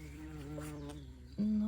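Bees buzz around strawberry flowers, a faint, steady insect drone lasting a moment with a louder, closer buzz swelling in near the end.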